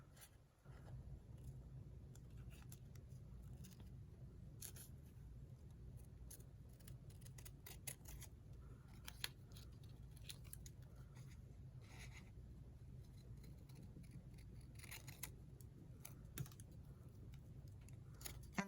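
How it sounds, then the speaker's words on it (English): Scissors snipping paper letters for a HELLO greeting card, a quiet run of small, irregular crisp clicks and cuts close by over a low background hum. "I'm going to use my scissors and cut each letter out separate."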